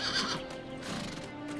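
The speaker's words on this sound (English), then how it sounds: "A horse befitting only a king." Bucephalus, a horse fit for a king, lets out a loud whinny that rises and falls over about a second, with a few hoof clops mixed in close by.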